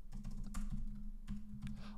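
Someone types on a computer keyboard while writing a Python script, producing quick, close clusters of soft key clicks in short bursts with brief pauses, and no one speaks.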